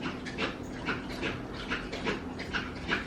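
A dog whimpers in a close, repeated series of soft high whines, several short cries rising and falling over a noisy indoor background, with no talk.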